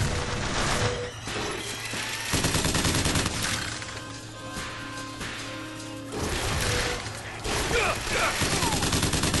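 Gunfire in the combat of the video game Bioshock Infinite, with repeated loud shots and bursts mixed into a busy game soundscape with music, several volleys over time.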